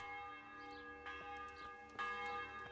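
A village church bell rings in the medieval game Kingdom Come: Deliverance. It is faint and distant, with repeated strikes roughly a second apart over a long, ringing hum.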